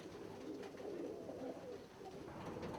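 White-headed archangel pigeons coo softly in a loft, low murmuring calls that are faint and continuous.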